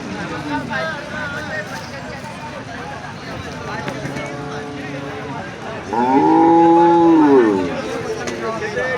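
Several cows moo at the Sangola cattle market, a busy, noisy setting, with a loud, long drawn-out moo standing out near the end over background chatter.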